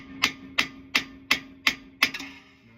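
A hammer taps on a Honda Acty strut to knock it loose during a coilover install, six sharp metallic strikes at a steady rhythm, close and clear, with a faint hum underneath.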